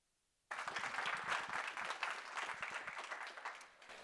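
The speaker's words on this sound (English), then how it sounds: "Please, a round of applause" A conference audience breaks into applause to welcome a speaker, the clapping starting abruptly after a brief silence, then a dense, sustained round of many hands that gradually thins toward the end.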